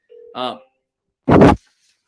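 An auto dialer plays a brief electronic phone tone, then a short, loud burst of harsh noise a moment later, with silence around both.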